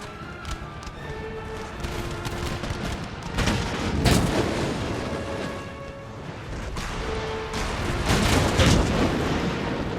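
Artillery fire in Empire: Total War, a Prussian army campaign battle, with repeated booming cannon shots at a distance under a steady wash of battle noise, swelling louder around the middle and near the end.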